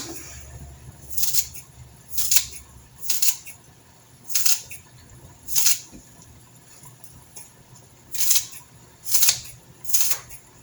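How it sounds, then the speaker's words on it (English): Green onions cut on a board with a knife, about nine crisp chopping strokes in uneven bursts, close and fairly loud over a low steady hum, no talking. "we're going to cut some green onions. Chop the bottom off first."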